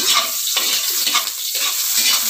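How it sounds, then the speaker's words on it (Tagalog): Garlic and onion dropped into hot oil, a loud close hissing sizzle with rhythmic stirring swells, no clear talking. "Mainit ang ating mantika. Ilagay na natin bating bawang, sibuyas. Halo-haloin natin."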